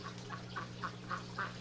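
Ducks quack in a steady run of about six short calls, fairly faint and evenly spaced over a low constant hum.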